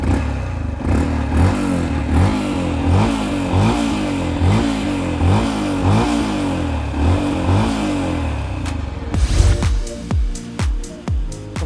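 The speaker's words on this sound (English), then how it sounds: "What is nice though is the exhaust note. It's meaty and quite nice." Yamaha FZ-X motorcycle exhaust, meaty and close, revving repeatedly in a steady rhythm of throttle blips before a sharper burst of quick revs near the end, with no talking.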